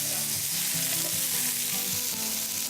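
A fish fillet fries in a pan with bacon, a loud continuous sizzle and crackle held steady throughout, with no voices.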